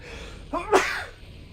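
A single sharp human sneeze, a brief inhaled gasp leading into a loud close burst that trails off, heard alone without talk.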